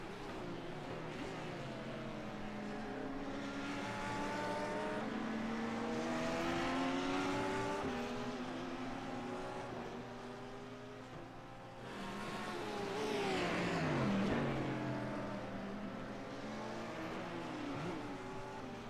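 GT3 race cars in a racing game, one closing on a Porsche, drone steadily at moderate volume, their engines rising and falling in pitch through gear changes as another car's engine swells close alongside.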